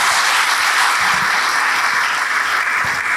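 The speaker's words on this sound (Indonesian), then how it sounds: "Berikan tepuk tangan yang hebat bagi dia." Sustained applause fills a church service, a dense, loud wash of clapping from a large congregation that holds steady throughout without fading.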